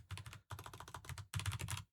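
Quick, crisp keystrokes on a new computer keyboard come in three rapid bursts, close and clear, with short pauses between them and no talking.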